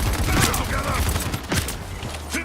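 Rapid bursts of gunfire in the team shooter video game Paladins, dense and continuous across the whole stretch with repeated sharp cracks, mixed with game effects and no talk.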